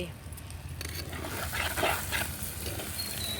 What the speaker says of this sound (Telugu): చూడండి ఆయిల్ ఎంత బాగా ఫ్రై అయ్యాయి చూడు